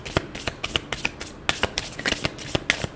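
Tarot cards shuffled by hand close up, a quick series of crisp flicks and riffles in an uneven rhythm, bright and clear with no talking over them.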